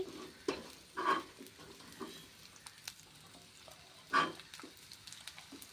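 Vegetables, carrot among them, frying in a pan for veg rolls: a soft, steady sizzle with a few sharp clatters of stirring, fairly quiet and close.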